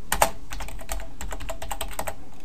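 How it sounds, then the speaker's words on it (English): Rapid, steady typing on a computer keyboard while entering code, dense close keystrokes over a constant low background hum, with no talking. "we'll type in some inline JavaScript"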